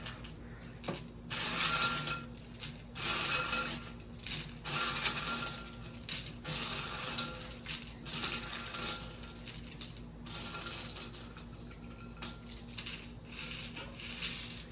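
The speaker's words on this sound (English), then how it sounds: "Let's fill it up with ice." Ice cubes poured and scooped into a small sewn cloth bandana pouch, giving a steady clinking, crunching rattle of cubes knocking together in bursts, close and fairly quiet with no talk.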